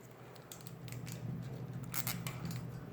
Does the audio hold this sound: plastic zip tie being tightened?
yes